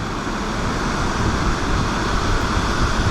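A waterfall in the Yorkshire Dales roars as a constant, dense rushing wash, loud and close with no pauses and no voices.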